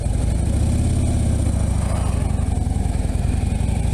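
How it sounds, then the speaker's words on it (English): Harley-Davidson Ultra Classic Electra Glide motorcycle engine idling close by, a steady low rumbling throb with an even pulsing beat that stays loud and constant throughout, with no talking. "Phoenix, the ultra classic electric glide."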